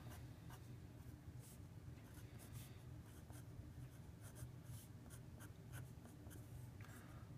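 Steady scratching of chalk or a marker writing equations on a board during an engineering lecture on shear stress in beams, continuous and fairly close with no talk.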